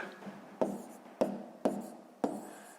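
Numbers written by hand with a pen on paper during a sixth-grade maths exercise, four short scratchy strokes spaced evenly, close and quiet, each tapering off quickly.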